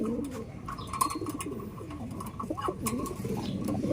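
Pigeons coo in low, rolling calls, several overlapping, close by amid a steady background of rustling noise.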